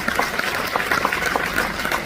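Audience applause at an international obstetrics congress in Paraguay, a steady wash of many hands clapping at moderate loudness, with faint voices underneath.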